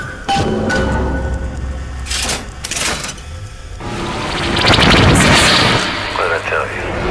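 A ray gun in BioShock fires amid booming, crackling bursts and a swelling electrical surge, loud and close, with scattered blasts around it and voices talking over parts of the clip.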